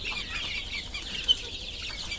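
Desi chickens and a rooster kept on a farm for meat give soft, faint clucks over a quiet outdoor background, with one brief sharper peep midway.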